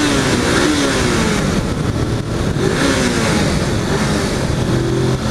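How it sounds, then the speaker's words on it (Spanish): A Suzuki GS500 motorcycle engine revs loudly inside a tunnel, its droning mid-range note rising and falling between blips of throttle, with the enclosed walls adding a dense, continuous roar and no talking. "quiero escuchar qué tal suena ese motor en ese túnel"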